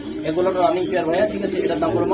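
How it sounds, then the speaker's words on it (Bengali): Gola pigeons cooing at close range in a loft, low throaty coos running through the short span, mixed with nearby voices. "টপ কোয়ালিটির কিছু কবুতর দেখাবো গোল্লা কবুতর"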